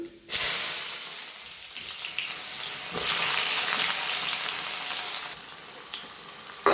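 Onions dropped into hot oil for sundakkai sambar, a sudden sizzle burst followed by a steady close hiss of frying, rising again with stirring midway, no voices.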